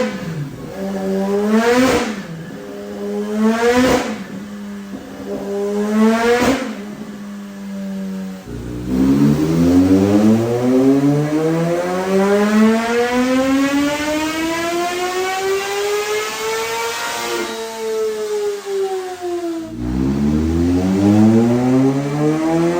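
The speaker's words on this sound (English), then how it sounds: "we've got the 2021 ZH2 strapped down on the dyno" A 2021 Kawasaki Z H2 motorcycle on a dyno gives three short, loud throttle blips, then a long, continuous rev that climbs steadily in pitch. It cuts off sharply and begins rising again near the end.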